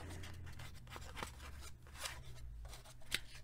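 Scissors trim the edge of a paper ledger page, several soft snips and rustles close by over a low steady hum, with a sharper cut near the end.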